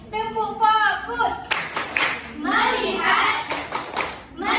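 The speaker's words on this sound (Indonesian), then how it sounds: "Tepuk fokus" A classroom of children claps a rhythmic focus chant, with sharp bursts of hand claps between their voices calling out together.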